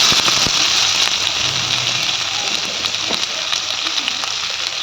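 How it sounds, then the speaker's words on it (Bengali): Chopped onion hits hot oil already holding whole garam masala, giving a steady, close broadband sizzle that runs the whole time with small crackles and pops, no voices. "তারপর এতে দিয়ে দেবো পেঁয়াজ কুচি।"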